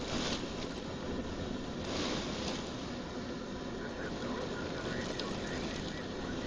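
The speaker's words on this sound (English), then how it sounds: "You can't really see it, but the rain is coming in" Heavy rain driven sideways by strong wind makes a steady, loud hiss and rush with occasional gusty swells throughout.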